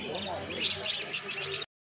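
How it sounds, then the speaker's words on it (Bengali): Lovebirds and finches in cages at a pet market in Uluberia chirp in quick high tweets, close by, while a person talks over them; the sound cuts out briefly near the end. "তো এই খাঁচাটার মধ্যে প্রচুর লাভবার্ড পাখির কালেকশন রয়েছে দেখতেই পাচ্ছেন"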